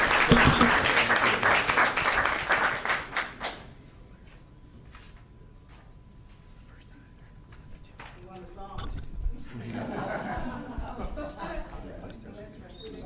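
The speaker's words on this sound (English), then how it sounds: "So nice round of applause again for Commissioner Spencer." Applause at an Inglewood city council meeting for Commissioner Spencer, a burst of clapping in the first few seconds that fades to a quiet room, followed by some shuffling and room noise.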